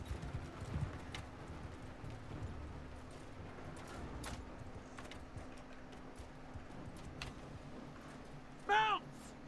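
Cavalry horses in the Mount & Blade II: Bannerlord battle game trot with soft clip-clopping hooves in the background over a low drone, while a voice talks; a sharp tonal call rings out near the end.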